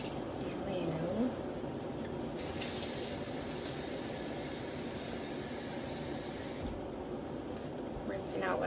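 Water gushes from a kitchen tap into a sink while a pot is rinsed out, a loud steady spray with brief shifts in splash as the pot moves under the stream.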